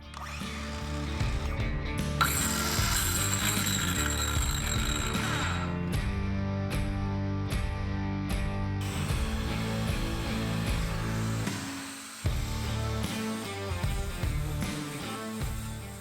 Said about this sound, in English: The intermittent noise coming from the motor or bearing didn't have an effect on the cut